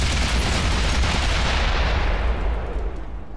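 World of Tanks console match with tank gunfire: a dense, continuous roar of loud, rapid firing and booming blasts fills the whole stretch, easing off slightly toward the end, with no talk over it.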